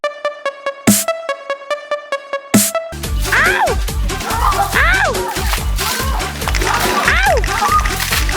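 Water splashes and sloshes during a Songkran festival water fight, arriving in repeated wet bursts close by after a run of rhythmic electronic beeps, with people shouting and talking over it.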